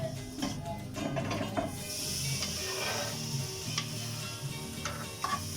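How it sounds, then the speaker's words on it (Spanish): Chopped onion sautéing in a hot pan while cooking Chilean pino filling, a steady close sizzle and crackle with occasional stirring scrapes, no voices. "Ahora vamos a poner la cebolla para sofreírla."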